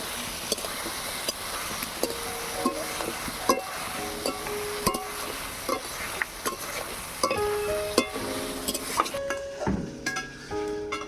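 Egg frying and being stirred in a pan at a home cooking lesson, a steady sizzle with scattered scrapes and clinks of a utensil against the pan, close and continuous with no talk.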